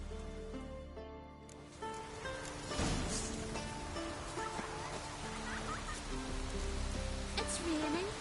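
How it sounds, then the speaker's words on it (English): Rain pattering in The Witcher 3, a soft steady hiss of drops over music and ambient game sounds, with a voice speaking briefly. "It's raining."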